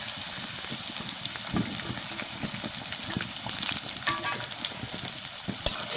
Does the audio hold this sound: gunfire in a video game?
no